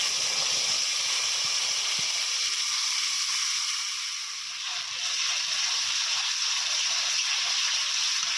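A blended paste of onion, tomato, ginger and garlic sizzles steadily in hot oil, making a continuous bright hiss that dips briefly partway through and then returns.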